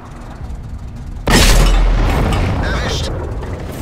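A tank cannon on a Pz. IV H in World of Tanks fires with one sudden, loud, close boom after a quiet hum, followed by a long rumbling decay and mechanical rattle.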